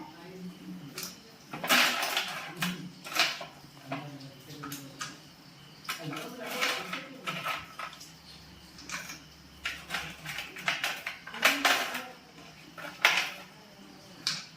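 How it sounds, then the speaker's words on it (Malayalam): Ice cubes, eight pieces, dropped one after another into a mixer jar while preparing a Herbalife Formula-1 shake, giving a series of sharp clatters and knocks with brief gaps between them and speech in between. "അപ്പൊ ഞാൻ 8 പീസ് ഐസും ഇട്ട് കൊടുത്തിട്ടുണ്ട്"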